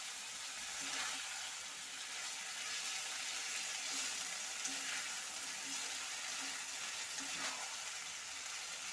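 Prawns sautéing in a pan for a Bengali potato-and-prawn curry, giving a steady, close hiss and sizzle throughout with faint scraping or stirring sounds underneath.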